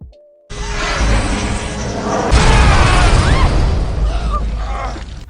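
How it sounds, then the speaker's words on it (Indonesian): A film scene in which piled kerosene explodes and the fire burns a house down: a sudden heavy boom followed by a loud roaring, crackling blaze with whooshing flames that rolls on without letup. "Ketumpukan minyak tanah yang akhirnya malah meledak, kemudian membakar habis rumah tersebut."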